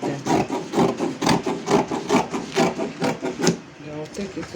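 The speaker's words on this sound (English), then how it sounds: "So now I'll take my scissors and cut out everything." Scissors snipping through fabric while a wrap top is cut out, a rapid run of close crisp rasping cuts in steady rhythm, fading near the end.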